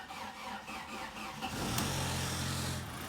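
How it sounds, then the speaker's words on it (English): An Audi A4 with a thermostat and overheating fault starts up in the morning: steady idle-like rumble first, then an engine catching with a low droning hum that stays steady and fairly close, no talk. "Let's see if this car starts."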